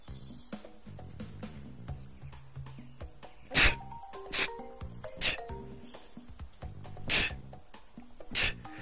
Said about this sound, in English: Hold on, I have to sneeze.